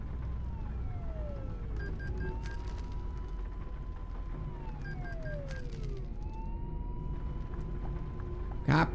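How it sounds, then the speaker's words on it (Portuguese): Synthesized siren wails from a G7 1800 DD double-decker coach in a bus simulator game, rising and falling sweeps repeating twice over a steady engine drone, with no talking. "Rapaz, olha essa sirene aqui,"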